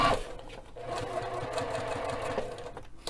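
A sewing machine back-stitching a facing to a lining, a steady close whirring run of needle strokes that starts with a brief louder burst and continues evenly throughout.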